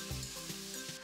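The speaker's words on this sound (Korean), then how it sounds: "냄비에 참기름을 둘러 육우를 볶다가" Beef sizzling as it stir-fries in sesame oil in a pot, a steady close crackle of frying filling the moment with no voices.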